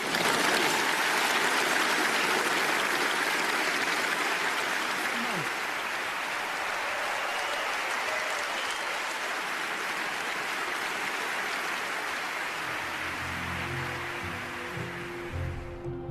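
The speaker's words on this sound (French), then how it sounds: "Ces applaudissements prouvent que je n'ai pas à vous convaincre de l'expérience et de l'autorité de Vladimir Poutine." An audience applauds a speech about Vladimir Putin, a dense, steady wash of clapping that holds throughout and thins slightly near the end, where a faint low hum appears underneath.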